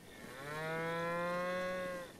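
A cow in The Legend of Zelda: Breath of the Wild gives one long, steady moo lasting about two seconds, close and clear with no talking over it.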